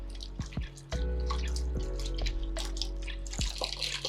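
Water running and dripping while hair is washed at home, with irregular splashes and trickles close by and no talking.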